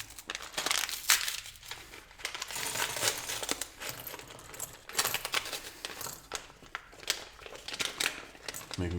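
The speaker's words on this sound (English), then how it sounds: "we have a mini sub pack within pack number 4 with the smaller bricks. We're gonna rip that open as well." A small plastic LEGO sub-pack of tiny bricks is ripped open and handled nearby, bursts of crinkling plastic and rattling pieces in an irregular rhythm.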